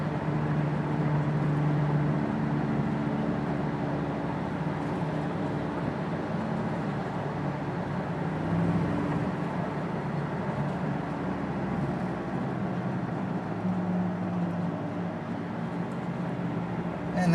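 Steady low hum from a 1999 Crown Vic cruising on an expressway, a constant drone with road and engine noise that holds evenly throughout and swells slightly at moments, heard from inside the car with no talk.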